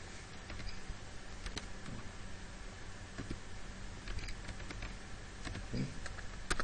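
Rapid clicking of computer keys goes on continuously, close and moderately loud, with uneven bursts of typing.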